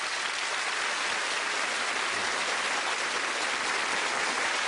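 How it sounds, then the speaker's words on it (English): Steady, dense applause from a television game show studio audience, spread evenly and sustained throughout with no individual claps standing out and no voices over it. "A round of applause."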